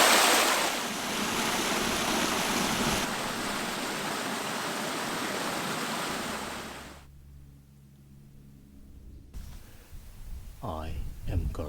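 Flowing stream water at a refill spot high on a rainy mountain hike in England rushes as a loud, steady broadband wash, then drops away near the end, where faint voices and rustling follow.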